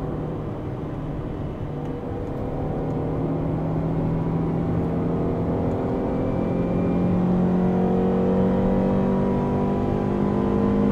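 A 1991 Honda CRX VTEC EE8 engine drones steadily from inside the car while driving, its pitch rising gradually as it pulls, loud and continuous with no talking.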